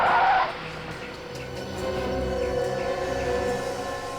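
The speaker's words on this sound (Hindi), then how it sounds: "यही ट्रक है, वो सामने आके खड़ी हो गई है।" A truck pulls up in a crime drama street scene, a brief tyre squeal at first, then a steady engine rumble as it comes to a halt nearby.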